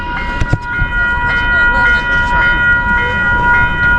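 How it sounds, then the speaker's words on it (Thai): An electric skytrain pulls in, its steady rumble and rail clatter carrying bright sustained tonal whines and a couple of sharp clanks, loud and close, with a voice briefly audible underneath. "สงสัยรถไฟฟ้ามา"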